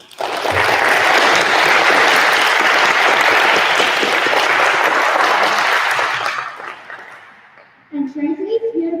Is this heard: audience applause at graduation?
yes